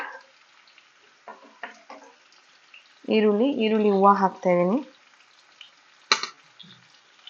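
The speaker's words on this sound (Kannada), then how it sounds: "ಮಶ್ರೂಮ್ಸ್ನ 1-3 ನಿಮಿಷವರೆಗೂ ಸ್ವಲ್ಪ ಎಣ್ಣೆನಲ್ಲಿ ಫ್ರೈ ಮಾಡ್ಕೊಂಬಿಡೋಣ" Mushrooms fry in a little oil in a pan, making a low, steady sizzle in the background, broken by a few sharp clicks and a short stretch of speech midway.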